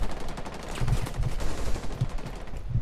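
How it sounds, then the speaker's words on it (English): Rapid gunfire in the tactical shooter Rainbow Six Siege during a close gunfight; loud, dense bursts of shots, steady across a short span, with no talking. "I'm about to win this gunfight."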